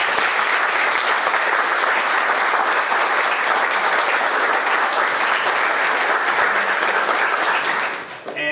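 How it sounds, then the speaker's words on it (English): A full audience round of applause at a science cafe event: a dense, loud, even roar of many hands clapping at once that holds steady throughout and drops off sharply at the very end. "let's give them a quick round of applause."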